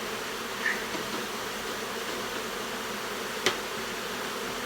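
A steady, dense honey bee buzz fills the clip, like many bees droning together nearby inside a honey house, with a couple of brief sharper flicks.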